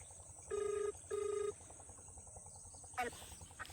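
Two long electronic ring tones sound in quick succession, each lasting under half a second, followed by a brief voice-like chirp over a faint hum.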